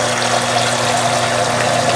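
Pump pushing 160-degree water into a mash tun fitted with a false bottom while brewing a nut brown ale, a steady close hum with rushing, trickling water running continuously.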